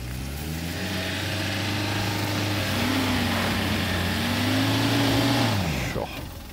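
A 4x4's engine revs steadily and loudly as the flooded vehicle is pulled out of water in the Okavango Delta, the pitch climbing and holding through a long rev before dropping off near the end.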